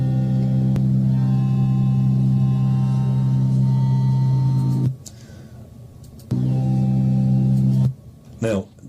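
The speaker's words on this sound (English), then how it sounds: "the tones you're hearing in the background" Loud, steady electronic oscilloscope test tones with a buzzy harmonic quality sound in long stretches, broken by abrupt drops into near silence before resuming.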